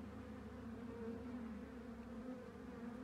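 Honey bee colony humming steadily inside a hive, a low continuous drone heard close up and fairly soft, with no voices.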